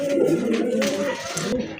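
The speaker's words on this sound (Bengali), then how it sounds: "রাজশাহী গিরিবাজ কবুতর টানা গলার কবুতর" A pair of Rajshahi Giribaz pigeons coo close by, a low throaty rolling call repeated in short phrases.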